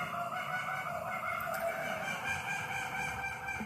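Goose-like birds honk and call close by, a continuous overlapping chorus of nasal cries over a steady background, with no talking.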